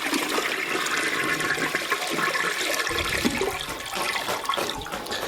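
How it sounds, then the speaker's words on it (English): A plugged toilet is flushed, producing a loud, steady rush of water that churns continuously for several seconds, with no speech over it. "looking at the top of the tank, we're going to go ahead and flush it."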